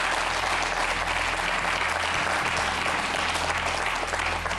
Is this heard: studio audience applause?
yes